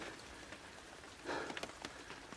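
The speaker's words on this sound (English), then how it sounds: "18 pounds 3 ounces as the rain tips down" Rain falls steadily at a carp fishing lake, a close, dense patter on surfaces with a few louder individual drops standing out, heard alone without talk.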